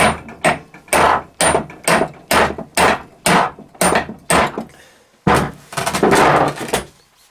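A hammer strikes a tool set against a stuck driveshaft bolt on a Volkswagen or Audi, landing about a dozen sharp, loud metallic blows in a steady rhythm with a short pause near the end.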